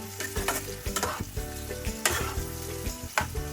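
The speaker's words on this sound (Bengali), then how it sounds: "এবার এটা একটু ভালো করে ফ্রাই করবো।" Mutton liver fries in a hot pan, a steady close sizzle broken by repeated scraping stirs and clanks of a spatula against metal, with background music running underneath.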